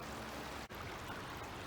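Douglas Creek flows steadily as a continuous broadband rush of water, close and unbroken apart from one brief dip, with no voices.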